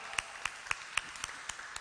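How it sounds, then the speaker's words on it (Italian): Faint, evenly spaced handclaps from a small audience welcoming a speaker onto the stage at a conference in Ragusa, about eight distinct claps in a light steady rhythm over low room noise. "Un bel applauso"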